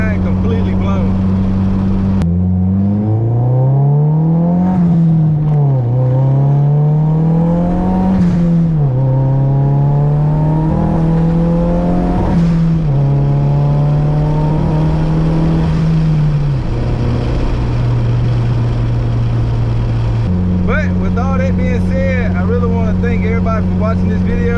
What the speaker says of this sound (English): giving me the opportunity to be able to drive my first turbo Honda